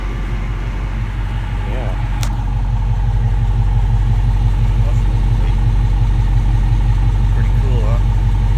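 A car with its mufflers removed idles in a steady, loud, deep rumble, and a voice speaks briefly over it.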